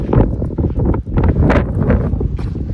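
Strong wind buffets the microphone in loud, rumbling gusts in an open field in the Sierra Nevada on the Pacific Crest Trail, briefly dipping before roaring back.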